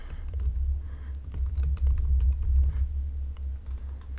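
Someone types a commit message on a computer keyboard. The keys click in a quick, irregular run, close and fairly soft, over a low hum.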